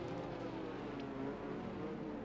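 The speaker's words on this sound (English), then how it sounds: "you can hear the growl of the safety car, and it's just such a eargasming thing to hear. The Aston Martin this year sounds absolutely wonderful." The Aston Martin safety car in a Formula racing game at Austria lets out a low, continuous engine growl, moderately loud and steady throughout with no break.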